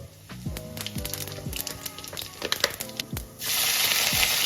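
Cumin seeds frying in hot mustard oil in a home kitchen for a jackfruit curry, a steady crackling sizzle with spoon stirring clinks that swells into a louder, denser hiss near the end.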